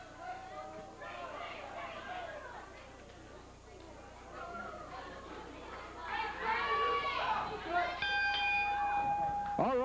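A wrestling ring bell rings once near the end, a bright ringing tone marking the start of a tag team bout at a 1997 USWA TV event, heard over crowd chatter and a commentator's voice.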